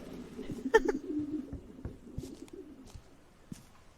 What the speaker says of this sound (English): You can actually hear the pigeons cooing.